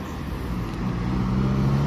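Road traffic passes a cyclist stopped on an electric fat-tire bike at a crossing, a steady car-engine rumble and tire noise that swells slightly toward the end, with no talking.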